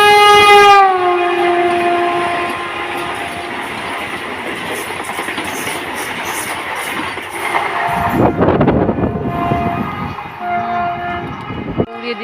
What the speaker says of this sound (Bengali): এই যে রেল আসছে